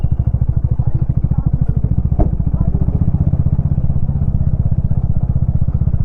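A motorcycle idles nearby at Banjhakri waterfalls, its engine thumping in a fast, even pulse that continues throughout, loud and close, with a faint voice briefly over it.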